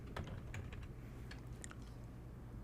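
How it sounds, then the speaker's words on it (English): Computer keyboard keys clack in quick, uneven bursts, close and faint over a low steady room hum, with no one talking. "So I'm going to start typing model entity"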